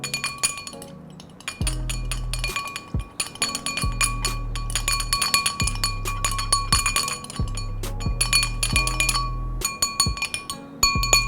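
A spoon stirs absinthe in a hot glass, giving repeated bright metallic clinks against the glass over a quiet background, with a few duller knocks mixed in.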